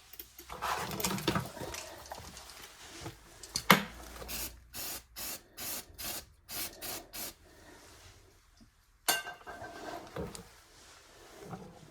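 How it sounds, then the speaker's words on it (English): Brake cleaner hisses from an aerosol can onto a cloth during rust repair on a Mazda MX-5 NC Miata. It comes as a series of about eight short, even spray bursts in quick rhythm, then one more burst after a pause, with rubbing noises nearby. "I'm going to use just brake cleaner."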